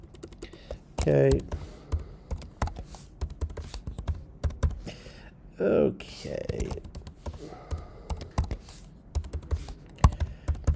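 Keys clatter on a computer keyboard as a password is typed, quick irregular taps close to the microphone, with a brief spoken word and a few short vocal sounds between bursts.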